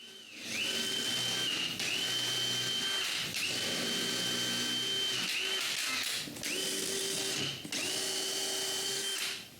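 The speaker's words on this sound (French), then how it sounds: "Avant de dévisser la base des côtés, je perce des trous qui vont me servir à aligner tous les morceaux" A power drill bores alignment holes in the wooden sides of a convertible dresser, whining in several long sustained bursts separated by brief pauses, loud and close with no talk.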